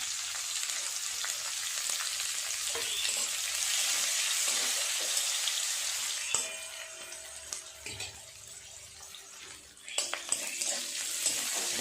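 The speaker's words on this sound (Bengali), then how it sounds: "পেঁয়াজটা ভাজা ভাজা হয়ে এসেছে" Chopped onion frying in oil with a dried red chilli and bay leaves, a steady bright sizzle throughout, close and fairly loud, with a few soft clicks of stirring and light kitchen knocks near the end.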